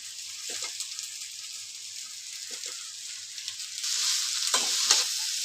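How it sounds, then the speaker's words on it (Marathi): Leftover cooked rice is tossed into hot tempering for fried rice, making a soft steady sizzle with a few spatula scrapes; the frying swells louder and brighter near the end. "आता आपण याच्यात रात्रीचा भात टाकणार आहे"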